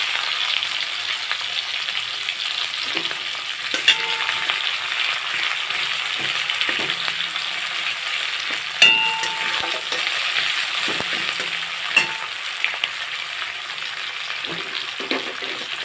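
Chopped garlic, added with chopped onion, sizzles in hot oil in a pan for a spicy koi fish curry. It gives a steady, bright crackle, with occasional clicks and knocks of stirring and no talk.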